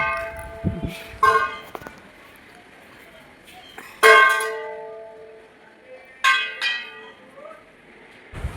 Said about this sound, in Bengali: ঠাম্মির সাথে সাথে ঘন্টা বাজাচ্ছে